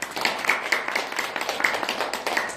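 A crowd applauds steadily, a dense patter of many hands clapping together at moderate loudness.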